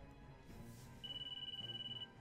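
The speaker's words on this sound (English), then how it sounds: "Crystal, your phone is ringing." Phone ringing in Disgaea 5, a short electronic trilling ring lasting about a second over quiet background music.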